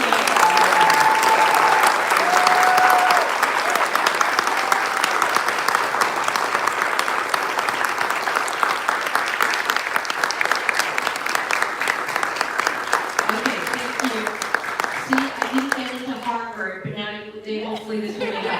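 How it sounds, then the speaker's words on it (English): Sustained audience applause at a live Asian American Heritage event honoring the speaker's parents, dense clapping filling most of the stretch before thinning out near the end as a voice begins to speak. "give my parents, Colin and Tremden, a round of applause"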